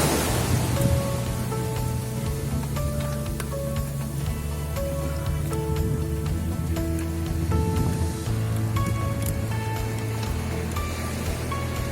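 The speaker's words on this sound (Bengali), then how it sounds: "অসাধারণ ভিউ, এখানে ঢেউ আসতেছে।" Sea waves wash onto the shore at Saint Martin's Island beach in Bangladesh, a steady broad rushing surge that runs without pause beneath a soft melodic music bed.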